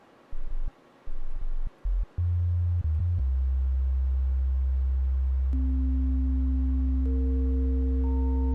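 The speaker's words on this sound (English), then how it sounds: "it's still a sine wave." Pure sine tones hum steadily, starting as low pulsing bursts, then holding a continuous drone while higher clean tones join one after another.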